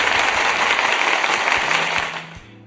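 Applause from a crowd, dense continuous hand clapping, fairly loud and steady before tapering off near the end.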